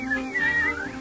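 A person whistles a cheerful, sliding melody for a moment in a Snow White radio-theater production; a single clear warbling line rises and dips, close and alone.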